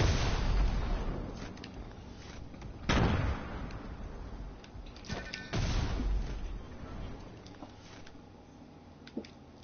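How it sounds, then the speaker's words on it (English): Shockwave grenades going off in a video game: three heavy booming blasts spaced a few seconds apart, each a loud broadband thump that rumbles and decays, over a low continuous game background. "Shockwave grenades. Three, two, one."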